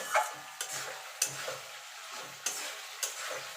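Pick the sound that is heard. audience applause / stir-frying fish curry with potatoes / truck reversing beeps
stir-frying fish curry with potatoes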